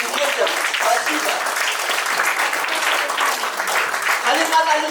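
School event audience in Dagestan applauding children, a steady, moderately loud wash of clapping with a voice briefly heard amid it.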